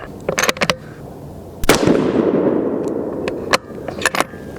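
A Remington 700 in .243 Win, loaded with 42.0 grains of Hodgdon H4831 short cut under Sierra 100-grain Pro Hunter bullets, fires one loud shot with a long rolling echo, with sharp cracks and clatter before and after.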